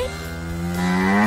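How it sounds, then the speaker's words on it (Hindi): A cow moos once in a long, rising, harmonic call that swells louder toward the end, heard alone and close with no talk. "गाय"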